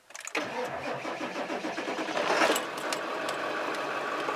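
A Ford F-350 with the 7.3 engine cranks on a cold start, its starter churning in a steady, rapid rhythm that grows slightly louder toward the middle and keeps going without firing cleanly. The sound is close and clear, with no one talking.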